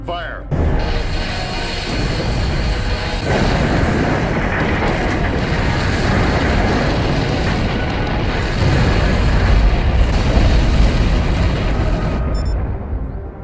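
A spaceship fires its forward beam weapons in a science-fiction TV battle, a loud, continuous roar of weapon blasts and explosions with deep rumbling booms that swells near the end.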